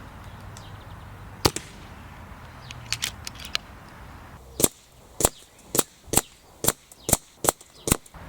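FX Dreamline Lite .22 air rifle firing, a sharp crack followed after a pause by a quick string of about nine evenly spaced, loud, dry shots, close and alone.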